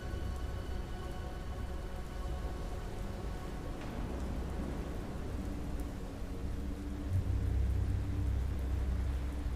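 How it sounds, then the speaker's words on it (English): Steady rain hiss and low rumbling thunder in the stormy night setting of the video game Haven Moon, a continuous wash of noise with a heavier, louder rumble building near the end, no talk. "this is that storminess that they're talking about"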